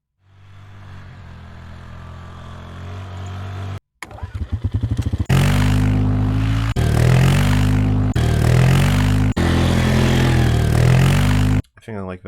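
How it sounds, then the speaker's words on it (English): An ATV engine sound effect starts with a low rising idle and then revs hard in several loud, sustained bursts separated by short cuts. "let's get some ATVs"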